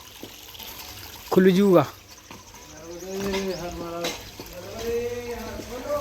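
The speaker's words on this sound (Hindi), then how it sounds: "तो यहाँ पर देखिए ये जल निरंतर बह रहा है" Water runs steadily out of a village toward the Narmada river, a soft continuous trickle sitting low beneath several people talking close by.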